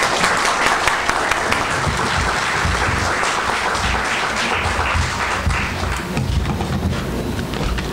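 An auditorium audience applauds at the opening session of a liberty congress, a dense, sustained wash of clapping that holds steady and loud throughout.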